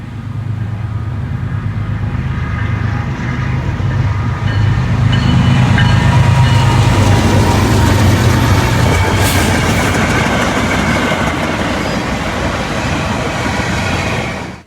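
A Norfolk Southern freight train led by a fresh GEVO locomotive rolls past close and loud, a steady rumble of engines and freight cars that stays strong throughout and then cuts off abruptly at the end.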